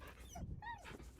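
Scratch, a camp dog in Baldur's Gate III, gives a short, soft whimper with a couple of rising whiny tones, close up and quiet, over a faint background.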